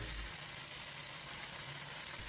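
Sauce sizzles in a pan where yellow croaker fillets are pan-frying with fried scallion, ginger and garlic; a steady, quiet hiss runs throughout without pause.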